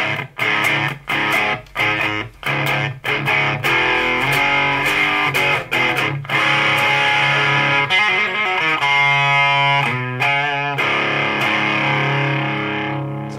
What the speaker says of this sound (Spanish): Satura bien, sea, suena bien la saturación.